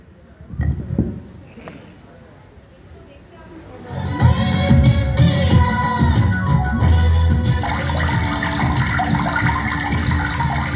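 At a stage magic show in Bankura, water pours steadily from a small brass lota in the Water of India trick. The continuous gushing swells after a few seconds beneath loud voices in the hall.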